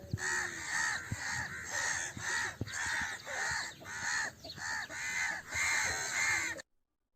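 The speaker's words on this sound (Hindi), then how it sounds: "कौवे की बोली सुनिए।" A crow caws again and again in a steady rhythm of harsh calls, close and fairly loud, with no talk, ending in sudden silence.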